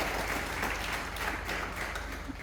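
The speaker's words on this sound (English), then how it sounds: "can you give them an applause for just giving them an energy to be on the stage?" An audience at a student conference applauds students on stage, a sustained, dense wash of clapping that stays fairly even and fades slightly near the end.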